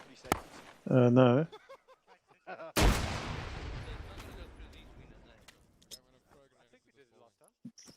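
A thrown grenade in a shooter video game goes off as one loud, close blast with a long rumbling decay. Someone speaks briefly just before it.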